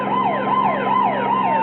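A police car siren wailing close and loud in a fast, regular up-and-down cycle, about four sweeps, steady and continuous with no talking over it.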